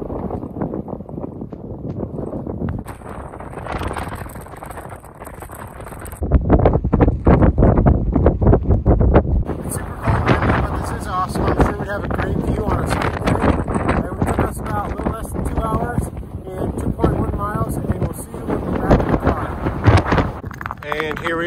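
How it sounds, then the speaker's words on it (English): Strong, cold wind on an exposed White Mountains summit in winter: heavy gusts buffet the microphone in loud rumbling bursts while people talk intermittently. "Wow, it's so windy and cold."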